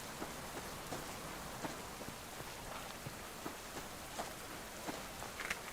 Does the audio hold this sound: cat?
no